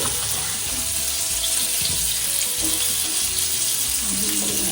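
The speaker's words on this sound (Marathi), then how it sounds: "एकदा पलटी केल्यानंतर किती आपल्याला डीप फ्राय करायचे ते बघून घेऊ" Fish deep-frying in hot oil after being flipped gives a steady, dense sizzle and crackle throughout, close and fairly loud, with faint background noise.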